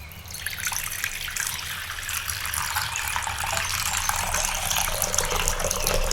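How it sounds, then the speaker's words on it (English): Hot water pours steadily into a bowl holding orange peels and neem leaves, a continuous close trickling gush that builds slightly in fullness over several seconds, with no talk. "Finally, add in hot water."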